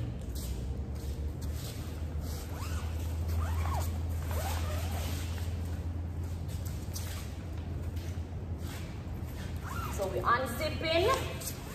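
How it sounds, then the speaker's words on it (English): A body bag zipper being drawn open in a couple of short rasping pulls, heard against a steady low hum with faint voices in the background. "So the body bag has a zipper. So we're going to unzip."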